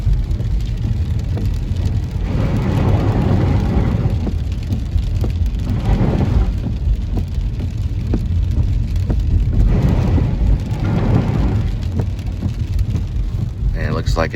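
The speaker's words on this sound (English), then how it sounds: "and it's raining." Steady rain and road noise inside a car driving north on a Texas highway during a multi-day rainstorm, a continuous loud wash with no talk.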